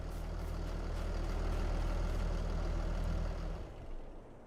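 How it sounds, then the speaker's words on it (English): Tractor engine idling in Farming Simulator 22, a steady low diesel rumble with a regular throb that drops away near the end. "Oh, that's that tractor."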